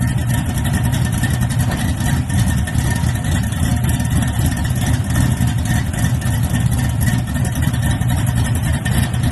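A car's engine idles and runs steadily throughout, a loud, close, rumbling drone with a choppy low-end lope and no pauses.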